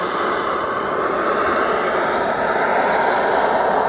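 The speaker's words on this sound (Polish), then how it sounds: "bierzemy palnik, odpalamy, no i po prostu jedziemy" Steady, loud roaring hiss of a lit blowtorch heating the aluminium cylinder of a VW Beetle engine, continuous and close with no pauses or talk.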